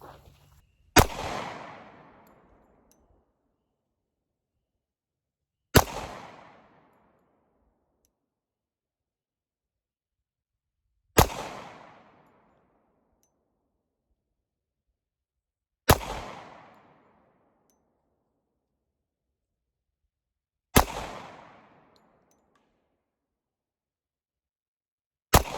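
Six loud, evenly spaced pistol shots from a Tisas A1 1911, fired at a target 7 yards away, each crack followed by a short decaying echo and silence between.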